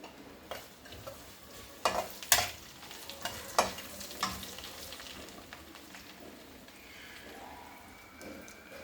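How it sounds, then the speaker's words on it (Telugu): A sambar tempering with curry leaves frying in oil in a pan: steady low sizzling broken by sharp crackles and pops clustered early, with a utensil stirring now and then, close and alone. "లైట్గా వేగింది తాలింపు"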